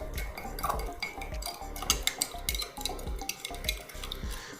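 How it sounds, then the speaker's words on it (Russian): Cutlery clinks and scrapes against a bowl in quick repeated strokes while rice vinegar dressing with sugar and salt is stirred for sushi, close and moderately loud with no talking. "И хорошенько это все перемешиваю."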